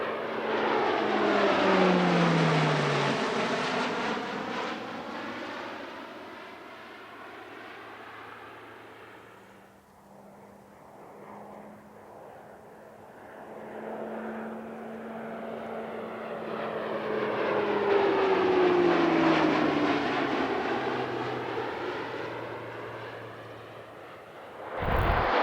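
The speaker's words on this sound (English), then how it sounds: "The French Navy only has 3 Hawkeyes, making the type an extremely rare airshow participant." A French Navy E-2 Hawkeye turboprop roars past twice during an airshow display at Moulins, propeller drone swelling loud, falling in pitch as it recedes, dipping quieter, then rising again on the second pass.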